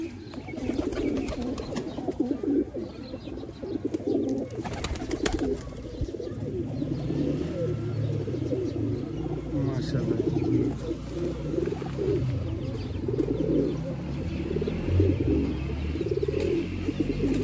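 Pigeons for sale in Sialkot, light-weight birds among them, coo steadily and close by in a busy, continuous chorus, while a voice speaks briefly.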